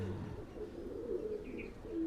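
Bangladeshi local high flyer pigeons coo softly and steadily at close range, with a low murmuring call repeating over faint background noise and no voices.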